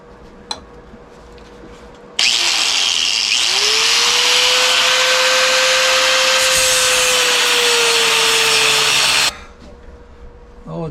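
Cutoff wheel grinding into an engine part for a DT3 engine build, a loud, harsh whining cut that starts abruptly, holds steady for about seven seconds with a rising tone, then stops suddenly.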